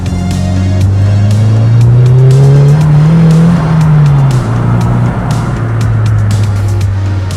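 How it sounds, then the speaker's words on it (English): A Nissan Silvia S15 turbo drift car accelerates hard, its loud, close engine note climbing in pitch then dropping with a gear change before holding steady, with ticking and whooshing over the drone. "Feels good to have a turbo car again."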